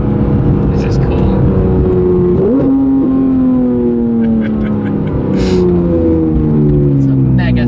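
A car engine revs loudly and continuously while driving through a U-turn, its note rising and falling with crackling snaps on the overrun.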